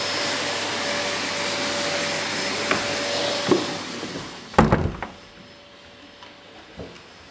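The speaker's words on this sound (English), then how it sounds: "I'm just vacuuming because nobody helps me." Household vacuum cleaner droning steadily near the mic, with a few knocks and bumps against furniture partway through as the motor tone shifts.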